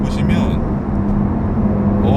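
A Porsche 911 Turbo S Cabriolet 992 with its sport exhaust switched on cruises at the speed limit on a concrete road, giving a steady, loud low engine drone and road roar, with faint voices underneath.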